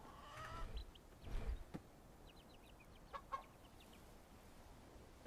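Chickens cluck faintly in the medieval village game Bellwright, with a few scattered clucks and soft calls over a quiet ambient background.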